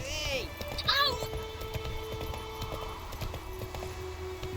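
The horse Roach in The Witcher 3 video game gallops in a steady, rapid clip-clop of hooves, with a brief whinny near the start and a voice speaking over it.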